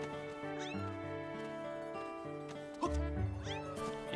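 A Remlit, the cat-like creature from the Wii game Zelda Skyward Sword, lets out cartoonish meows over the game's background music, with a louder cry near the end.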